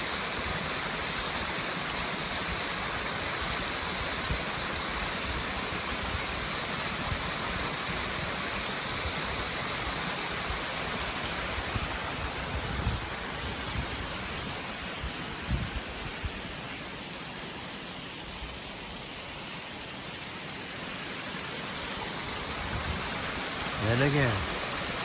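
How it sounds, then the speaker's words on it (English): A small natural waterfall pours in a steady, rushing wash of water that holds an even level throughout with no pauses. "This is natural waterfall."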